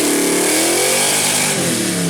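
A Foxbody Mustang engine revs hard on a track during a launch, a loud, close, sustained roar with the pitch rising and wavering as the wheels hop.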